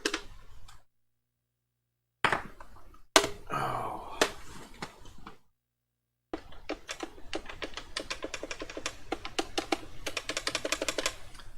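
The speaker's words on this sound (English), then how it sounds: "It's much more clicky on the 6-button one." Plastic buttons on a Sega Genesis six-button controller click in quick bursts during TMNT Hyperstone Heist play, with short silent gaps and then a fast, dense run of sharp taps, close and fairly quiet.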